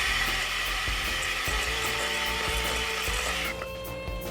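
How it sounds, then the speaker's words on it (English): Electric hand mixer creaming sugar and fat for donut dough, a steady whirring motor hum held at even loudness, dropping slightly near the end, no speech. "we just take our whipper here, and we're just gonna cream it."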